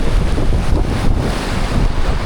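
Loud, constant wind roaring across the microphone at Tinipak Rock Formation, a dense low rumble with no gaps and no voices.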